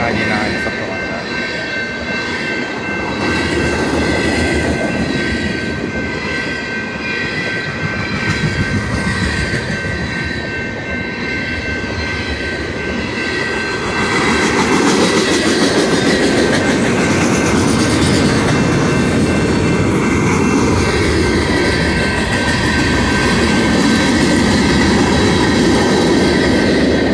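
A long Union Pacific freight train with a CN 3880 rear DPU and KCS units rolls past close by in Modena, wheels clattering rhythmically over the rails with occasional squeals, growing louder midway and continuing steadily.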